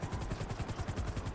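Helicopter in a GTA roleplay game, recently damaged: a steady, fast rhythmic rotor thump at close range, with no voices.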